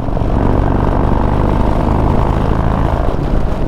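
A Harley-Davidson Buell motorcycle engine with a Vance and Hines tune runs loud and close, a dense, throbbing low rumble held steady throughout.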